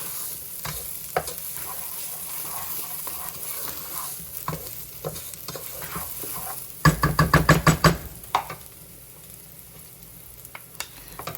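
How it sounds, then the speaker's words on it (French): Garlic and mixed white, brown and black quinoa sautéing in a pan, a soft continuous sizzle broken by a quick burst of scraping stirring strokes midway, then sparse knocks, no voices. "Je fais revenir ensemble l'ail et mon quinoa mélangé."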